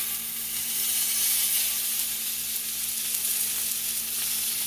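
Pork chops sizzle steadily in hot oil in a cast iron pan, a dense, loud, continuous frying hiss close by with no voices.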